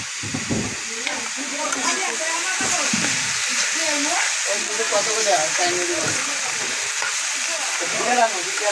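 Chopped taro stems frying in a pan in a home kitchen, a continuous broad sizzle with stirring scrapes while people talk over it throughout.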